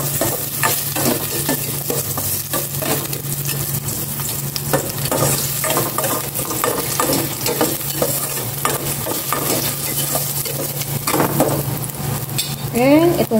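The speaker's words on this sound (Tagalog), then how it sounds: "Igisa ko na tong luya." Ginger sautéing in a little olive oil, a steady sizzle of frying with repeated stirring and scraping strokes in the pan, close and fairly loud, with no talking.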